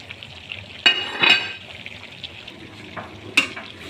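A spoon stirring mixed vegetables with fenugreek leaves in a frying pan, a few scraping and clinking strokes against the pan over a soft low sizzle, close and moderately loud, with no talk.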